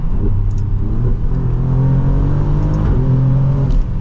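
A 2024 Alfa Romeo Giulia Quadrifoglio accelerates hard in track mode, its engine roaring loudly and steadily from inside the cabin, the pitch rising and holding with no voices.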